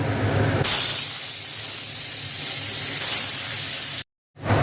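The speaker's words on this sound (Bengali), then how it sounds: "কড়ায় তেল দিয়ে দিয়েছি তেল গরম হয়ে গেছে আমার মাছটা ভেজে নেবো" Bhola fish frying in hot oil in a kadai, a loud, steady close-up hiss and sizzle that swells as the fish goes in and runs continuously, then cuts off briefly near the end.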